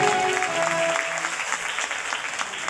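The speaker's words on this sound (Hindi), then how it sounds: "तालियां बजा दीजिए, जोरदार तालियां।" Audience applause at a large cultural celebration with folk dances, a steady dense wash of clapping from a crowd, fairly loud and continuous throughout with no talking.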